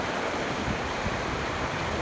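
A rain-swollen river in flood near a farm field surges past in a steady, broad rushing roar, loud and continuous with no voices over it.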